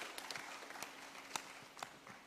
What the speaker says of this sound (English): Let's give her a round of applause for that contribution.